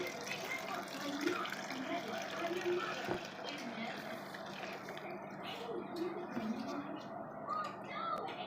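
Dissolved SLS solution is poured gently into a homemade pine-oil dishwashing liquid mix, a soft, steady trickle and light splashing that runs throughout while someone talks over it.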